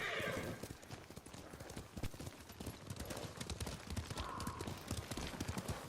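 Horses in the video game Ghost of Tsushima gallop with rapid, continuous hoofbeats and an occasional whinny, moderately loud and close, under faint background ambience.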